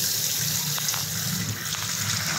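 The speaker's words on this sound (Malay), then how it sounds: "Okey, ini saya buka air." Water runs from a sink tap in a steady, loud, continuous gush, heard close up without any talk.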